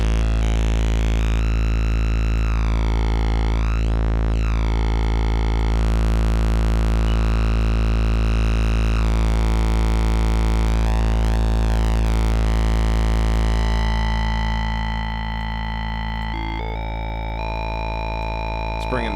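A sustained buzzy synthesizer oscillator tone from Bitwig's Phase-4 drones on, its timbre sweeping and warping repeatedly as it's shaped, with no voices.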